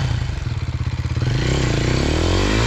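A stuck vehicle's engine revs hard in rapid pulsing bursts, then rises into a louder sustained roar with clattering, close and without speech.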